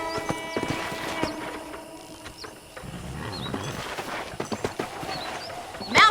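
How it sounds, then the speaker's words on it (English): A horse's hooves clip-clop at a walk in the Red Dead Redemption video game, irregular soft thuds against a quiet ranch ambience with faint birdsong and brief musical tones. "let's see if you can still ride a horse"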